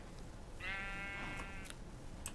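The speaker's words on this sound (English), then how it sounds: "Ah, the sheep." A single sheep bleats in the block-building game Mental Block, a short wavering cry lasting about a second, fairly near, with a couple of faint clicks around it and no talking.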